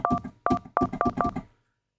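Synthesized DTMF phone tones made in Bitwig sound in a quick series of five short, sharp dual-pitched beeps with brief gaps, fairly quiet and alone, ending in silence.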